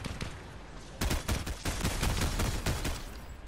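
In Fortnite's ranked mode, gunfire is aimed at the player: sharp, close bursts of automatic shots that start loud after a brief quieter lead-in and keep coming in rapid clusters.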